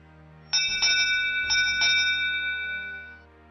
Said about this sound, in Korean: 어느덧 해가 지고 대회를 마치는 종이 울렸습니다.